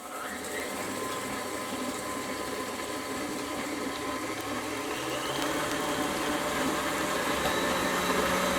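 An electric mixer creams butter with brown and white sugar for brookies, giving a steady, continuous motor whir with a gritty, churning texture that runs evenly and fairly close throughout, with no talking.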